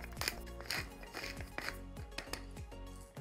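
A pepper mill grinds black pepper over garlic mashed potatoes, producing a close run of rhythmic crunchy clicks from repeated twists, quiet and without talk.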